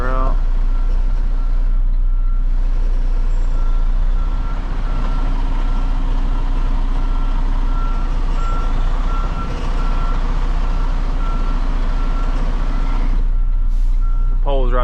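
A truck backing up with a trailer, its reversing alarm beeping steadily over a loud, constant engine rumble close by, with a brief hiss near the end.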